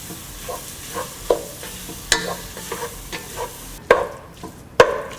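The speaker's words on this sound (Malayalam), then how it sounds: "മുളക് പൊടി, മല്ലിപ്പൊടി, മഞ്ഞൾപ്പൊടി എന്നിവയിട്ട് നന്നായിട്ട് വഴറ്റുക" Soaked chili, coriander and turmeric powder sautéed in a pan for beef, a low sizzle broken by repeated scrapes and sharp clanks of a spoon against the pan.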